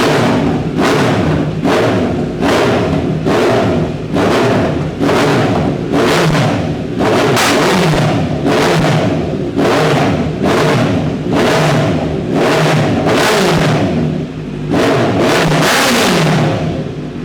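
A Kawasaki Z motorcycle fitted with a full-system exhaust, revved repeatedly in quick, evenly spaced blips, loud and close, with a deep throaty burst on each rev.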